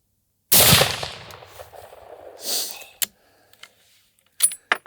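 An 80-year-old rifle firing outdoors: one loud, sharp shot with a short echoing decay, then metallic clicks and clatter of the action being worked, ending in a couple of quick sharp mechanical snaps.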